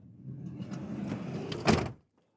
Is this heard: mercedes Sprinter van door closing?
yes